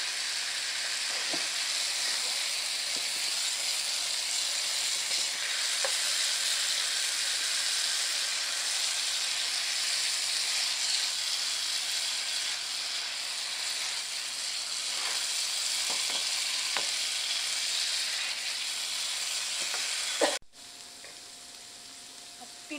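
Chopped onions fry in oil with a little salt for a dhaba-style bhindi masala, giving a steady close sizzle with occasional faint stirring scrapes, then dropping abruptly near the end; no one speaks.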